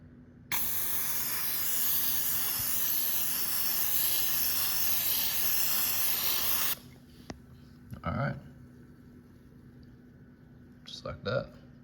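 A burst of filter oil sprays onto a motorcycle air filter as one continuous loud hiss lasting several seconds, then cuts off abruptly. A few brief clicks and handling noises follow, along with some faint talk.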